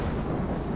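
A Life Is Strange thunderstorm makes a dense, steady, low roar of thunder and rain, loud and unbroken throughout, with no voices.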